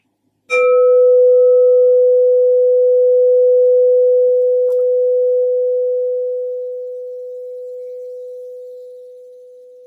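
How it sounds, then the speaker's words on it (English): A crystal singing bowl gives a single loud, pure ringing tone that starts abruptly and sustains steadily, slowly fading over about nine seconds with a faint higher overtone early on. "I'm first going to use my crystal sound bowl to clear and set the energy for you guys"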